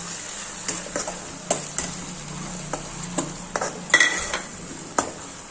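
Finely chopped tomatoes sizzle in a hot pan while a spoon stirs them, giving scattered light scrapes and clinks over a soft, steady frying hiss, close and without talk.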